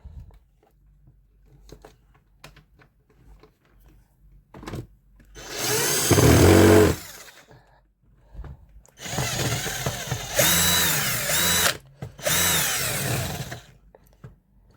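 A blue wire is tightened into the L3 terminal of a motor contactor, heard as two loud bursts of a whirring power driver separated by quiet gaps.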